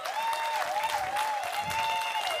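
A church congregation applauding during a sermon, a brief, even patter of clapping with a wavering sustained tone running over it.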